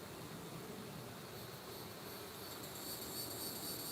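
Honeybees at a hive during an inspection make a faint, steady buzzing drone that runs continuously and quietly throughout.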